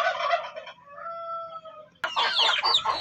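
Native chickens in a coop give loud, close clucks and drawn-out calls, with a short wavering cry between two bursts of busy squawking.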